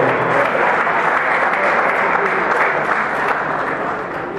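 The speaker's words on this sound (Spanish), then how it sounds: "Le damos un fuerte aplauso." Steady, dense applause from an audience at a baseball team's press conference, a loud continuous wash of clapping that holds evenly before easing slightly at the end.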